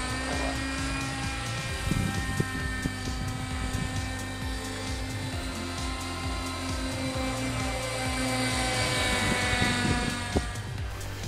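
An older radio-controlled flybar model helicopter flies nearby with a steady, high-pitched motor and rotor whine that holds a continuous droning tone and rises slightly toward the end, with no voices.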